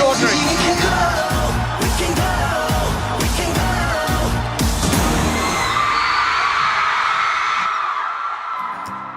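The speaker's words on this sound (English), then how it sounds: "Some of this screaming is guttural." Large crowd of K-pop fans screaming and shrieking loudly at a concert, a sustained dense roar with sharp bursts and claps that fades slightly toward the end.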